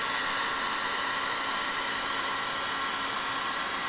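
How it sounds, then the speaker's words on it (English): Heat gun blowing hot air to soften the mastic sealant on a Mercedes W203 car headlight during a projector retrofit, a steady close-up roar of airflow that runs unbroken throughout, with no talking. "you can always heat it up again quickly. Just hold the heat gun"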